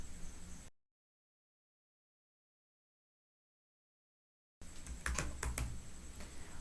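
Typing on a computer keyboard, a short burst of key clicks, then a long stretch of silence, then a denser run of close, crisp keystrokes.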